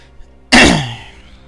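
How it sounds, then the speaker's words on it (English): A single harsh throat-clearing cough from a person with a sore throat bursts out close by after a moment of quiet, then trails off slowly into silence. "Sorry if I cough a little bit, my throat kinda hurts right now."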